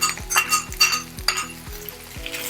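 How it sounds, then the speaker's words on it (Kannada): Fenugreek leaves go into a sizzling dal tempering with curry leaves, a steady close frying hiss broken by rhythmic clinks and scrapes of a spoon stirring against the pan. "ಈಗ ಇಲ್ಲಿ ತೊಗರಿ ಬೇಳೆ ಬೆಂದಿದೆ, ಇದಕ್ಕೆ ಮೆಂತ್ಯ ಸೊಪ್ಪನ್ನು ಸೇರಿಸ್ತೀನಿ"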